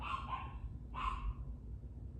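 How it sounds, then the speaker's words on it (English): A dog barks indoors, two quick barks followed by a single louder one, faint and somewhat distant against quiet room noise. "He's probably barking at the delivery man or whatever."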